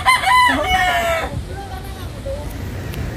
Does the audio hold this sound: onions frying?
no